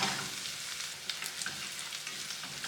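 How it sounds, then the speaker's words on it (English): Chopped garlic and scallion sauté in hot oil for Jamaican pepper shrimp, a close, steady crackling sizzle with small pops scattered through it, short and continuous without speech. "Saute that for a few minutes until it gets fragrant"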